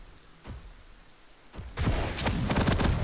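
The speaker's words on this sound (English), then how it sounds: "there's the peak damage, the little machine gun spurts" Machine gun spurts in an arena shooter game, a few sparse shots and then a dense rapid burst of fire in the last second and a half.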